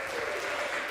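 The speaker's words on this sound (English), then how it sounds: "how about one more round of applause for these girls?" Dense audience applause fills a live music night after two girls finish performing a difficult song, a steady wash of many hands clapping at once for the full second, loud and unbroken with no clear voices.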